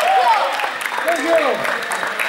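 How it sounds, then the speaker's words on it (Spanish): An audience claps and cheers for a contestant while a presenter's voice and a whistle-like tone ring over the top, the applause forming a busy wash beneath the talk. "Un aplauso para el Sergio."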